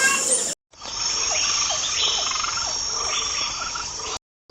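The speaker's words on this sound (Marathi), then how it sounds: "बेडूक पण आहे" Frogs croak in a steady series of short, repeated calls over a constant high insect-like buzz, fairly close and clear.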